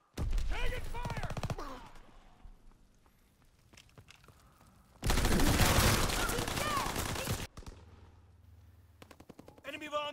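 Call of Duty WW2 multiplayer gunfire: two dense bursts of rapid automatic shots, the second a loud sustained volley lasting a few seconds, with quieter stretches of footsteps and game voice callouts between them.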